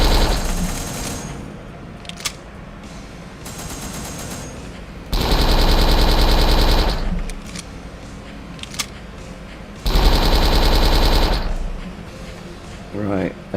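A gun in a video game fires short bursts, two loud rapid volleys separated by quieter stretches with clicks and mechanical clatter in between.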